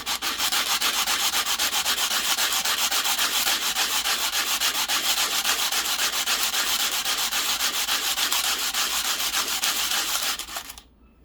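Copper pennies being hand sanded flat, with steady, continuous rubbing strokes at close range that stay loud and even for about ten seconds, then stop abruptly.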